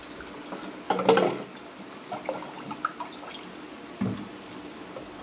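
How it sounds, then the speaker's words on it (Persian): Cold, room-temperature water is poured into a large container holding a bottle. The splash is brief and fairly close, with light trickles and drips after it and a second small splash later, and no voices. "بهش آب سرد یا همون آبی که با دمای اتاق هست اضافه میکنیم"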